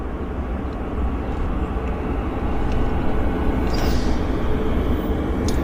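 A WestJet airliner bound for Honolulu turns on the ground at Vancouver airport, its engines a steady, broad roar that holds loud and unbroken, building slightly toward the end.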